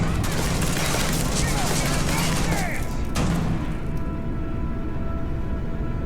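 Gunfire crackles in a Starfield firefight, a dense burst of shots for about three seconds that then thins out, with voices talking over the shooting.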